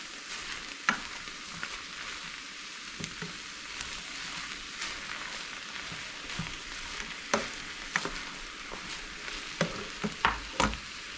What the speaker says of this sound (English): Got 2 small onions. Let those cook down.